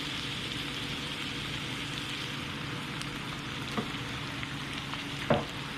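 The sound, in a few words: stirring pasta sauce for lasagna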